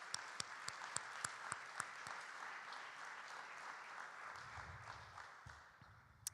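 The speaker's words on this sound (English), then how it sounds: "let's give a big round of applause to Boy Scout Troop 293 for doing the colors today" Applause from a crowd at a city address in Lakewood, Ohio, steady clapping with a few sharp, loud claps standing out near the start, continuing for several seconds.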